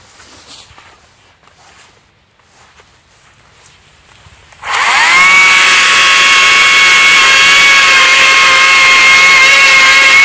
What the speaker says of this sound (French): je ferais mieux de prendre la tronçonneuse pour couper ça.